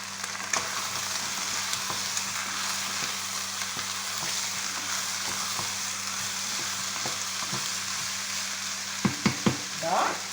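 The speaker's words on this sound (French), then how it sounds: "Voilà, on remue. On met nos carottes. On remonte le feu à 7." Carrots sizzling and frying in a pan on high heat, a steady close crackle with a low hum underneath and a few sharp clinks of stirring near the end.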